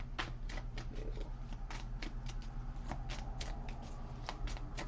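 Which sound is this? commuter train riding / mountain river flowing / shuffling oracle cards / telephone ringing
shuffling oracle cards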